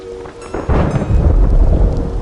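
A deep thunderclap rolls in and rumbles loudly over steady rain, building after a quieter start and lingering to the end.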